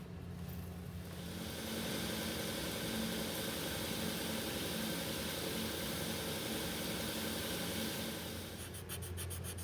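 A belt grinder fitted with a 400 grit belt over a slack platen runs slowly with a faint, steady hum and soft, continuous abrasive hiss, low in level throughout.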